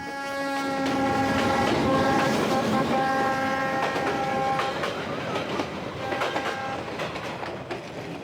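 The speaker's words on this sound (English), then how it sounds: "I'm leaving on the Reunification Express, southbound for Ho Chi Minh City" The Reunification Express rolls southbound along the Vietnamese coast toward Ho Chi Minh City, a loud horn blast opening over steady wheel rumble, then rhythmic clickety-clack of the carriages continuing alone.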